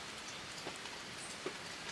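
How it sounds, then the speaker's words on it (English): Morning rain on a rural farm in Colombia, a faint, even hiss of falling drops with a few soft individual splashes, distant and without any voices. "Oh, but it's so beautiful when it rains in the mornings."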